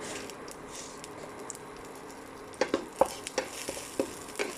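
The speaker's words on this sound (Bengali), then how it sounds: "এই যে একটা শুকনো লঙ্কা দিলাম, তারপর একটু সাদা জিরা দেব" Dry red chilli and white cumin seeds frying in soybean oil, a soft steady sizzle with a run of crisp pops and spatters in the second half, close by and without any voices.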